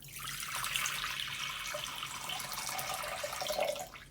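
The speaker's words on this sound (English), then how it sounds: "I also realized I recorded myself pouring the water into the bowl." Water is poured into a bowl, a continuous bright splashing and trickling stream that runs steadily for several seconds, close and fairly loud with no voices.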